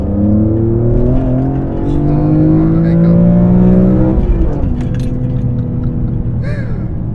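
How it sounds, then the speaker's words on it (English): A loud BMW E46 M3 engine with a carbon fiber intake, heard inside the cabin, drones and rises steadily in pitch as it revs up, then drops after a shift, close and enclosed. "It just sounds like the engine is like right here in your ear, pretty much."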